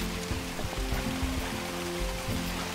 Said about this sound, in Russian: Бульк.